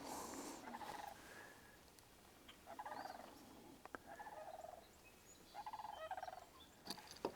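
Sandhill cranes give several bursts of rolling, trumpeting calls from a distance outdoors on a chilly morning, with quiet gaps between the groups of calls.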